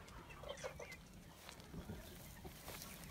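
Chickens clucking in a backyard garden, several short soft clucks close by in an irregular series, faint and without talk.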